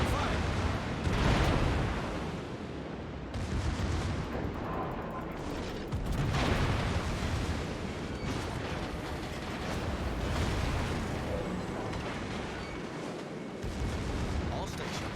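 Battleship secondary guns in World of Warships fire in repeated heavy booms and rumbling volleys over a steady background roar, loud and sustained through the stretch.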